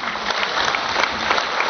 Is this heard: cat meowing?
no